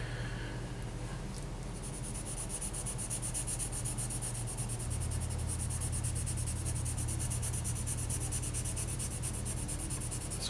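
A flat pencil rubs steadily across paper, shading a hand drawing in a continuous soft scratchy hiss that carries on without pause, close and fairly quiet.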